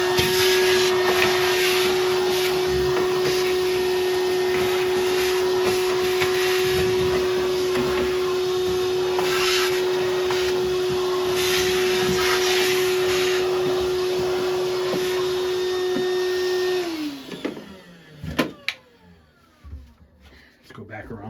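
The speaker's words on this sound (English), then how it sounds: "I'm gonna vacuum this out real quick." Vacuum cleaner running steadily and loud while cleaning out the inside of an arcade cabinet during a Kangaroo to Dig Dug conversion, with a strong constant whine that winds down and stops near the end, followed by a few clunks.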